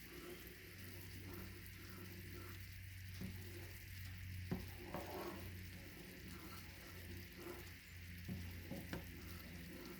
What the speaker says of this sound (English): So I'm going to leave this alone and let it boil up.